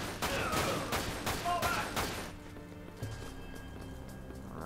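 Rapid submachine gun fire in the video game Final Fantasy VII Dirge of Cerberus, a dense burst of shots for about two seconds that then drops away to quieter game ambience.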